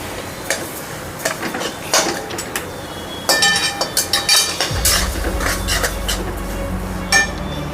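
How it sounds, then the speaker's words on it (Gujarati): Sugar being stirred into bottle gourd halwa in a pan over medium heat, with repeated scraping and clinking of a utensil against metal, close up. A heavier rumble sets in partway through. "મિક્સ કરતા જશું અને ખાંડ નાખતા જશું."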